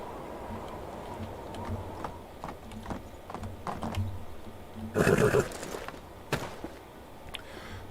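A horse in Medieval Dynasty whinnies faintly, with scattered hoof clops and ticking steps, then a louder burst of noise midway over a low game backdrop.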